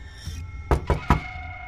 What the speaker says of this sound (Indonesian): tak lama kemudian terdengar ketukan di jendela kamar Ambar.